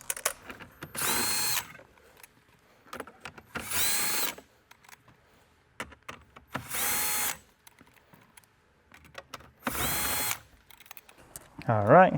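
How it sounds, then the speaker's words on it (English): Four separate bursts of a power tool spinning out 10mm bolts from a Toyota 86 dashboard, each lasting about a second with quiet gaps between, fairly close and loud, with a short voice at the very end. "And this will expose the 4 10mm bolts. We're gonna go ahead and remove them."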